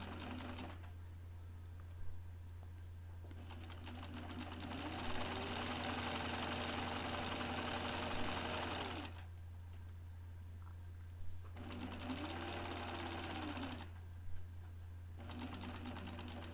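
A sewing machine stitches a quarter-inch seam along a curved pocket edge of an A-line skirt in bursts, running steadily for several seconds, pausing, then starting again in shorter runs with a faint hum between.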